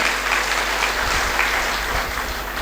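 Steady applause from an audience at a Rotary gathering, welcoming the district governor and his wife, dense and continuous throughout at close range with no talk.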